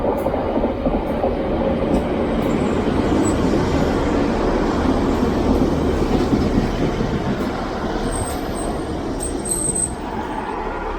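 A train arriving at a station on the St Ives Bay Line in Cornwall rumbles steadily close by, a continuous heavy roar of wheels and engine with faint high squeals near the end, no voices.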